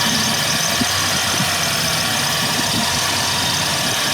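A 1984 Ford LTD Crown Victoria engine runs steadily and close up, with the throttle held slightly open just above idle, giving a continuous rumbling drone and no voices.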